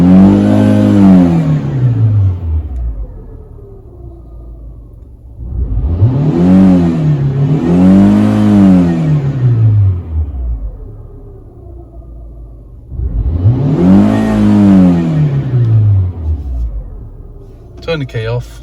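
A Fiat 500 engine is revved three times to around 5,000–6,000 RPM, each run rising in a loud close whine and falling back toward idle, with quieter idling between the bursts.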